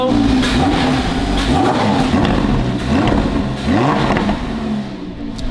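A Lamborghini with the stock sport exhaust revs repeatedly, its loud mid-pitched engine note climbing and falling in several quick sweeps close by, with no talking over it.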